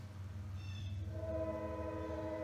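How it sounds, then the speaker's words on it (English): A passing train near a house sounds its horn, with steady tonal blasts over a low rumble of the rail cars, fairly faint and distant, with no talk. "So sorry about the train, guys."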